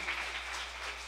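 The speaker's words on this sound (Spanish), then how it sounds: "¿Cuántos dan fuerte aplauso a esto" Congregation applause in a charismatic church service, a steady wash of clapping that sounds distant and fairly faint, with no voices.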